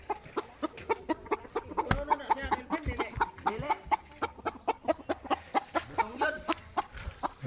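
Chickens, including a rooster, clucking repeatedly in short irregular bursts at close range, with occasional sharp knocks and faint outdoor noise between calls.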